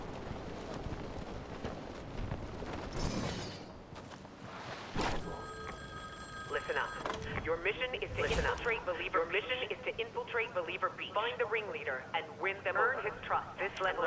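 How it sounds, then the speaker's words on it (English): A payphone call in the Fortnite video game, with a ringing tone around five to seven seconds followed by a voice on the line. Game noise and movement run under it throughout. "get Slone instructions basically from a payphone"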